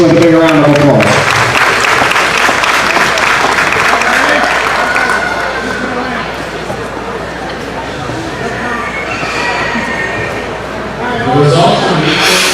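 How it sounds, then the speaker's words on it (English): Audience applause at a county fair event center for children finishing a show, loud and sustained with crowd noise and some speech mixed in, easing slightly midway before swelling again near the end. "Let's show those kiddos a big appreciation with a big round of applause."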